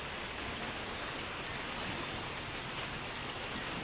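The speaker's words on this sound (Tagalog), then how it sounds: "Ayan, lumakas yung ulan." Heavy rain pours down in a dense, even hiss that stays constant throughout, close and enveloping with no voices over it.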